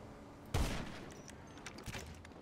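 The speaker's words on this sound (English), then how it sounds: "It's all they shoot is bombs, bro." In GTA 5 Online, a bomb launches and explodes with a heavy, booming impact, followed by quieter scattered blasts and crackling debris across a noisy game scene.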